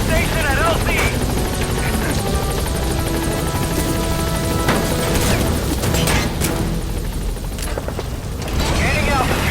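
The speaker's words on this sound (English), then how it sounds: "Все огневые силы против вражеского вертолета." Enemy helicopter in Metal Gear Solid V: The Phantom Pain, a loud continuous rotor roar with mechanical clatter and a few crashing impacts throughout, while radio voices talk over it.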